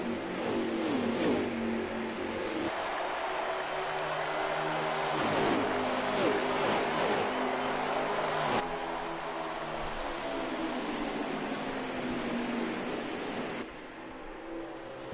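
Race car engines in the NASCAR Heat 5 racing game during a MotorMaster Series race at Homestead, a steady loud drone of several cars with rising and falling pitch sweeps as they pass and shift.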